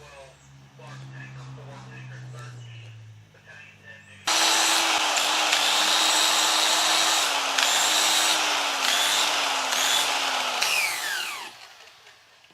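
Mower blades being sharpened with a loud power tool: after a few seconds of someone talking, a harsh grinding whine starts abruptly and runs steadily with slight pitch wobbles for about seven seconds, then stops.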